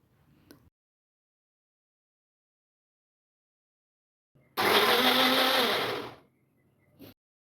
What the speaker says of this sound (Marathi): सूप गरम आहे, तर थोडंसं थंड झाल्यानंतर मी मिक्सरमधून वाटून घेते